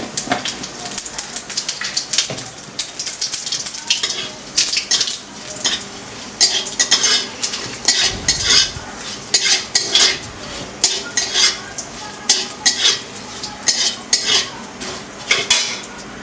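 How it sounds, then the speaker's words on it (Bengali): Dry red chili, bay leaf and white cumin frying in a pan for a spicy rohu fish and raw pumpkin curry, with steady sizzling under repeated loud metal clinks and scrapes of a utensil stirring against the pan. "এখন শুকনো লঙ্কাটা ভাজা হয়ে গেল তেজপাতাটা এখন আমি দিয়ে দেব জিরে হ্যাঁ সাদা জিরে পরিমাণ মতো"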